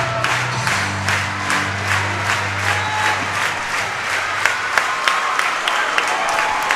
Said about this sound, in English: Crowd's getting energetic right here.